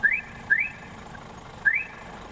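Three short rising electronic whoops from a truck horn in Euro Truck Simulator 2, alarm-like and game-like, two close together then a pause before the third, over a quiet hum.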